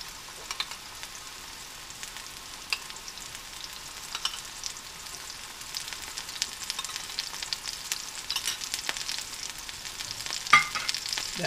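Two burgers sizzle and fry in a pan, with a steady crackling hiss and scattered pops that grow a little busier over time, and no voices.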